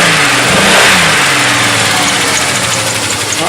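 A 2003 Pontiac Montana minivan engine, just fitted with a reinstalled belt, revs up loud and close and then settles into a steady, rough running drone.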